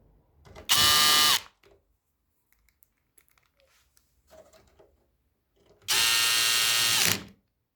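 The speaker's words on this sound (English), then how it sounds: "So don't forget to set the screwdriver torque to minimum." An electric screwdriver set to minimum torque drives screws into a Pioneer SX-1250 receiver board during restoration, giving two loud, steady whirring bursts with a quiet pause between them and no talking.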